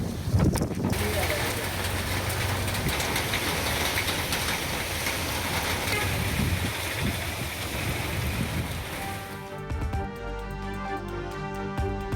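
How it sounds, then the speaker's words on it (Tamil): Heavy rain driven by strong gusty wind during a storm, a steady loud wash of rain and wind noise through most of the stretch, shifting to a different tonal sound near the end. "பலத்த சூறைக்காற்றுடன் கொட்டி தீர்த்த கனமழை"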